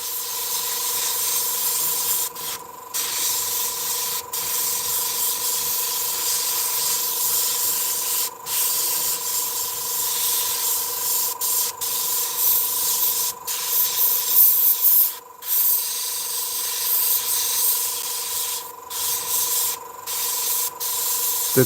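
Spray primer hisses onto a Tamiya F-14D Tomcat modern pilot figure, scaled down to 1/48, in a long continuous spray close up. A few brief pauses break it, and a faint steady hum sits underneath.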